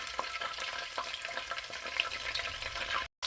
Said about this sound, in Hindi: सिर्फ 30 सेकंड के लिए इसको फ्राई करेंगे।